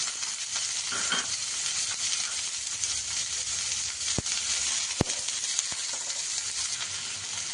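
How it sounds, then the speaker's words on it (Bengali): Chopped onion fries in hot oil with dried red chillies, giving a steady crackling sizzle broken by a few sharp clicks of a spatula against the pan. "তেল গরম হয়ে গেছে আমি কটা শুকনো লঙ্কা ফোড়নে দিয়ে দিলাম এবার আমি কুচনো পেঁয়াজটা দিয়ে দিচ্ছি"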